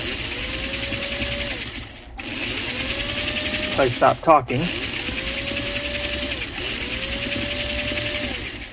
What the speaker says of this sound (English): this engine is winding out, so it's running real free